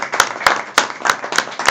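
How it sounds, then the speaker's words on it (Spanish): A few people clapping at a workshop session, loud and close, sharp separate claps in a loose uneven rhythm, about half a dozen over a couple of seconds rather than a dense crowd ovation. "les voy a dar un aplauso a ustedes"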